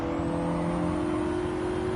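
Race car in Gran Turismo 7, a sustained steady engine drone with a constant high-revving tone, loud and close throughout with no talking.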